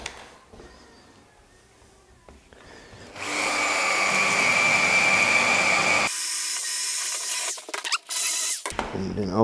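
A power drill bores a second hole into the wall of a new-build house under construction, a loud steady grinding run of about three seconds, then a changed, harsher drilling burst with brief stops, preceded by quieter handling noise.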